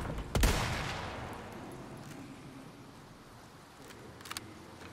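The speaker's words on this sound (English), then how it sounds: "I think the other rifle sounds better." Rifle fire in Resident Evil 4 (2023): one loud, sharp shot with a long decaying tail, followed by a few fainter distant cracks near the end.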